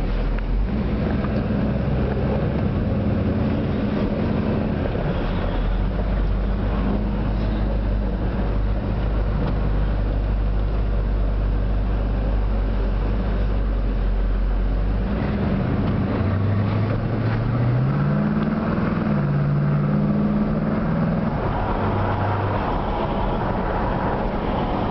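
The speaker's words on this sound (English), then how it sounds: "1970 Chevelle with a small block Chev crate motor in it" A 1970 Chevrolet Chevelle's small-block Chevy crate V8 idles with a deep, steady rumble, then revs up in rising and falling bursts in the second half.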